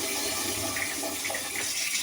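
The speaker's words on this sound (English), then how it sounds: "Now it flushes." A Bazyths ZY695A smart toilet with built-in tank flushes with a steady, loud rush of water that fills the whole moment without pause, no voices over it.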